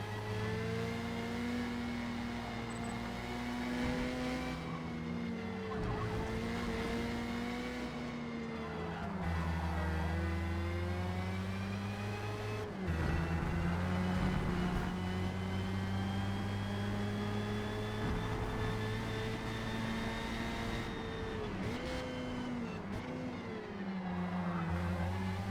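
Formula Mazda race cars scream through a final lap at Indianapolis Motor Speedway in Forza Motorsport, a steady, high-pitched engine whine rising and dipping through gear changes, with other cars droning around it throughout.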